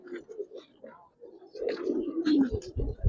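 Army pigeons, kept among Gribaz and coloured pigeons, coo softly at first, then build into louder, deeper, repeated coos close by.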